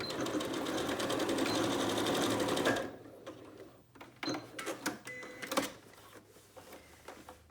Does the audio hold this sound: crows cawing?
no